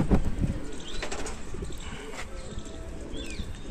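Sialkoti pigeons coo in low, soft murmurs amid faint wing flutters and scattered bird calls, with a few thumps and knocks nearby.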